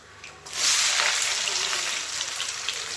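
Cinnamon and cloves drop into hot oil for a chicken gravy and sizzle at once, a sudden bright hissing fry that stays loud and steady close by.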